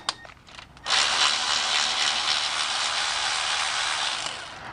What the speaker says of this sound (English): we'll just crack the lower bolts down here